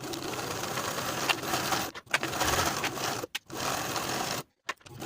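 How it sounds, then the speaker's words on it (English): A sewing machine stitches the side seams of a cardigan, running in fast continuous bursts broken by three short pauses, close and alone without speech. "Sew both side seams with a 5/8 inch seam allowance and press the seams open."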